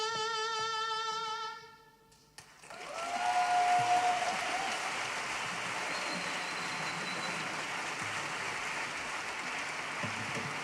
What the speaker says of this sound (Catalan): S'aplaudiment per a Mapi Blasco i Anna Lloris.